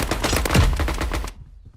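Rapid bursts of PUBG gunfire crackle for over a second, then cut off abruptly into quiet.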